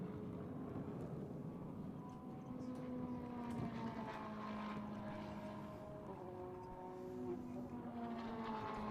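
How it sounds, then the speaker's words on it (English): GT race cars at the Indianapolis circuit during an 8-hour endurance event lap around and into the pit lane, engines droning with rising and falling pitch, steady and moderately distant with no commentary. "Cars making their way around and into the pit lane."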